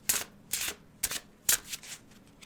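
Cards are shuffled up close for a tarot-style reading, producing four distinct papery riffles in a steady rhythm with quiet gaps between them.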